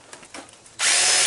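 A power drill starts up and runs steadily, driving a self-tapping screw into metal while fixing an arbor. The loud, constant whine begins abruptly after a short stretch of faint background sound.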